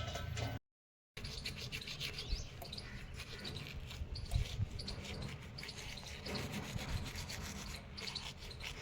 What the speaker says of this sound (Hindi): ब्रश मैंने कर लिया है और मुंह धो लिया है